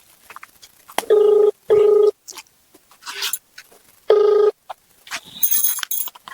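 A telephone rings in three distinct, loud tonal bursts, separated by gaps with brief talk and background sounds during a phone call in a comedy sketch.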